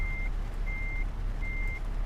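Steady reversing beeps from a truck in Euro Truck Simulator 2, three evenly spaced tones over a low, constant engine rumble.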